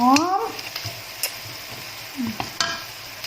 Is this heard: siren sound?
no